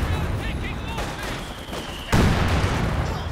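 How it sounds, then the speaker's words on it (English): Heavy mortar shells land in a Company of Heroes 2 battle, a string of dull booms and crackling impacts that swell into a louder blast near the end, with voices talking over the gunfire. "Heavy mortars though, getting some nasty hits"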